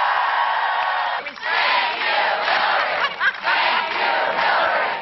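A large rally crowd cheers and whoops loudly for Hillary Clinton at a Barack Obama campaign event in June 2008, a dense roar with brief dips before swelling again.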